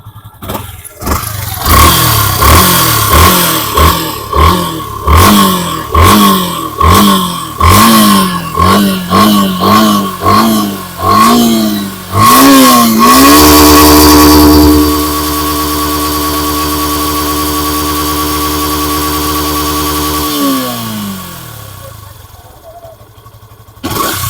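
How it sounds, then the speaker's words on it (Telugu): A 2019 Yamaha FZS motorcycle engine, heard up close, is revved repeatedly in sharp rising bursts. It then holds a steady, loud idle before cutting off abruptly near the end. "బండి స్టార్ట్ చేసి చూసారు కదా"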